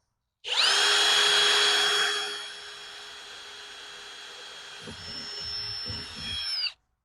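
A power drill bores out spot welds on a 1971 VW Super Beetle during heater channel removal: a loud, sustained high whine that eases into a steady grind, with faint knocks near the end before it stops.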